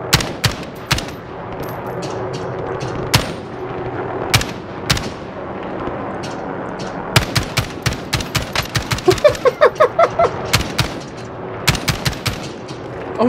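Gunfire in the game Call of Duty: Warzone, with loud single shots followed by rapid automatic bursts and scattered volleys, close and punchy over a low background rumble.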